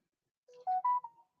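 A phone chimes with a short run of electronic notification tones, several clear beeps of differing pitch close together, then another tone starting at the end, in otherwise quiet surroundings.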